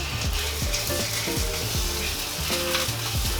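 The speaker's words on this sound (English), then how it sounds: "Sausages go in." Sausages dropping into hot oil in a frying pan for a full English breakfast, a loud, dense, continuous sizzle and crackle close by, with faint knocks from the pan and no talking.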